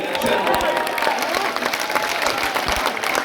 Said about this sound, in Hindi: तालियां कम रह गई